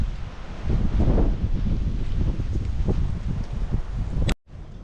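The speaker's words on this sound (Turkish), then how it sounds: "Evet çok rüzgar var arkadaşlar." Strong, steady wind roars and buffets the microphone with heavy low rumbling gusts, then cuts off abruptly near the end.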